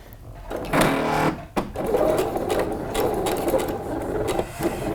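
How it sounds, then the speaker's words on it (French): A sewing machine stitches a few backstitches to lock a seam 1 cm from the fabric edge while sewing a Janie garment pattern, running in loud bursts with a short pause near the middle. "On se positionne à 1 cm du bord. Hop, voilà. Et on va faire quelques points d'arrêt."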